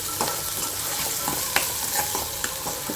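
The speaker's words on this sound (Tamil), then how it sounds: "இப்போ நல்லா வெங்காயம் வதங்கிக்கிட்டு இருக்குது இப்போ வெள்ளை பூண்டும் சேர்ந்து நல்லா வதங்கட்டு" Onions and garlic sautéing in a pan for prawn gravy, a steady close frying sizzle with occasional stirring scrapes and clicks, no voices.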